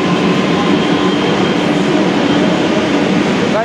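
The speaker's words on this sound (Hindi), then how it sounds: "पहले मेट्रो से जाएंगे हम लोग, चलिए मेट्रो चलते हैं" A metro train rumbles steadily and loudly throughout, a dense continuous roar of wheels on rail with a brief squeal at the very end and no talk.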